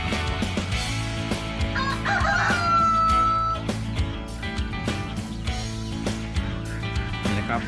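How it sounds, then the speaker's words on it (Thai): An Australorp rooster crows a long, loud cock-a-doodle-doo near the middle, with other chickens clucking and fowl noises around it in a farm coop. "ไก่พันออสตาล็อกนะครับผม"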